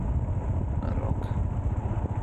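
A motorbike ridden by an old man passes near a campsite used for motocross meets, a low rumbling engine drone that swells slightly as it goes by, steady and moderately loud against outdoor noise.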